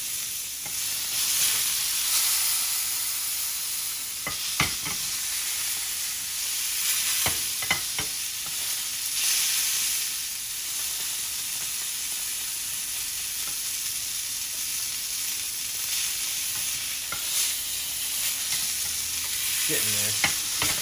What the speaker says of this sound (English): all we're doing really is putting a sear on it